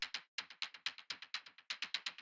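Minimal house synth percussion pattern run through an amp effect, a steady stream of short, bright clicky hits in a syncopated groove, fairly quiet and dry with no voices.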